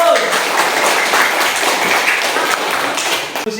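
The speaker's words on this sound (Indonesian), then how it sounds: "Kasih aplaus." A classroom group applauds after a student group's discussion presentation, a steady wash of clapping hands lasting several seconds at fairly close range, fading slightly near the end.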